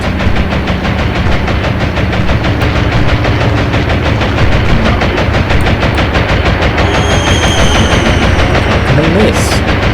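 In the naval video game Atlantic Fleet, rapid anti-aircraft gunfire rattles in a loud, dense, continuous stream at aircraft, with faint whistling tones late on.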